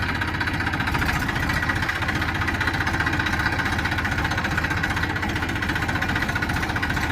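A Massey 241 diesel tractor engine idles steadily throughout, a low rhythmic chugging with a rattling mechanical knock, close by and continuous.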